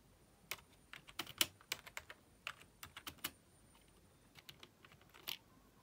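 Typing on a MacBook Pro keyboard: soft, close key clicks in an uneven rhythm, with brief pauses and a few quicker bursts, alone in a quiet room.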